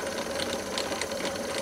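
A Myford ML7 lathe runs in its middle back gear at 110 RPM, making a steady mechanical whirr and hum with a faint gear tick throughout, heard on its own at moderate distance.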